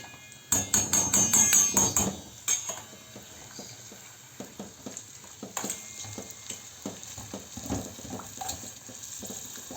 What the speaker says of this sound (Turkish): Salçamız da şöyle yağda biraz kavrulsun